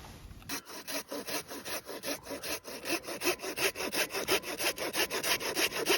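A hand saw cuts dead logs for firewood at a mountain camp in the Rockies. Each rasping stroke lands in a steady, even back-and-forth rhythm, loud and close, with no voices.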